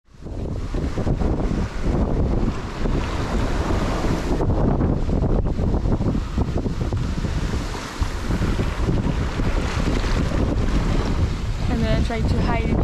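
Heavy wind buffeting a small sailboat at sea en route to the Canary Isles, a loud, constant roaring gust noise on the microphone with water and hull sounds beneath, sustained throughout with a brief dip midway.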